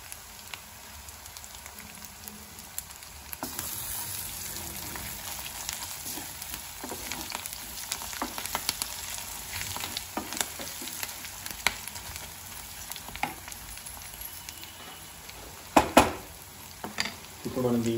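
Dried prawn curry frying in a pan while being stirred, a continuous sizzle with irregular spoon scrapes and clinks against the pan, a voice faintly present.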